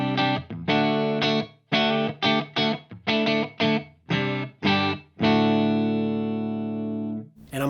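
An electric guitar on both humbuckers plays through a Synergy Morgan AC amp with the bright switch engaged, giving a clean chiming tone. Choppy strummed chords come in bursts, and a final chord rings out for several seconds.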